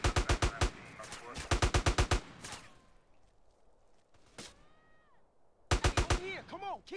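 Gunfire from the video game GTA San Andreas sounds in rapid bursts of sharp shots, a clustered volley at the start and another near the end, with quieter game noise between.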